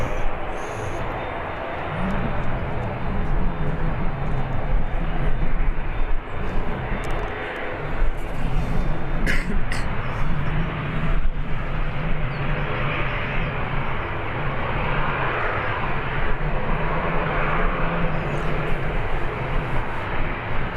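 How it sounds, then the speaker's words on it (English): A Jet2 airliner takes off at Birmingham Airport with a loud, sustained engine roar that holds steady and broad throughout, heard from a nearby outdoor vantage point. "Have another jet2.com taking off as well."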